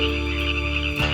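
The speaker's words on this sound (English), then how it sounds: "Today, though, the sound of croaking frogs is all you'll hear" Frogs croak steadily around the rusting iron hulk of the historic Tuolumne gold dredge, a continuous dense chorus with a low droning layer beneath and a brief dip near the end.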